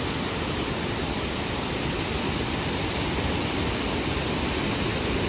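Savadav waterfall in Konkan rushes in a dense, unbroken roar of falling water, loud and close, with no voices over it.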